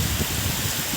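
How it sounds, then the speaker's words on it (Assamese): Heavy rain falls steadily as a dense, even hiss with low drumming on surfaces, close and continuous for the whole short stretch with no voices. "ইমান ডাঙৰ বৰষুণ দি আছে"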